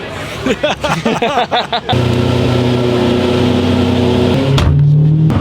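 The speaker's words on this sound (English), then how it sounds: "that raw turbo induction noise with the top off, there's nothing better" Vitesse sports car driven with the top off, its turbocharged engine giving a loud, steady induction roar and whoosh that builds after a brief stretch of nearby talking at the start.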